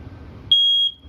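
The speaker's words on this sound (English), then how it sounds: "starts going off just like a smoke detector would" A single piercing electronic beep from a smoke alarm in a 2021 Forest River Tracer 22RBS travel trailer, steady and shrill, lasting under half a second before cutting off, with a quiet room around it.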